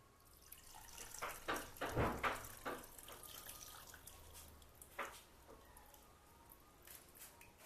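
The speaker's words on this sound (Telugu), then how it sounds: "ఇప్పుడు దీంట్లో మనం చింతపండు పులుసు వేసుకుందాం" Tamarind juice poured into a pot of village-style sea fish curry gives soft splashes and trickles, a burst of pouring then scattered drips, close but faint against a quiet background.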